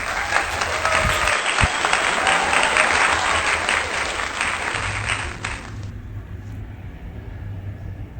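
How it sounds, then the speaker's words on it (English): Applause outdoors on the bank of the Dhansiri river, a broad, loud wash of clapping that stops abruptly about six seconds in, leaving a low rumbling background. "Let's give him a big round of applause."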